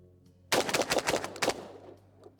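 A Savage Model 720 semi-auto shotgun fires a quick string of about five loud, close, sharp blasts in rapid rhythm, followed by a short ringing decay and quiet.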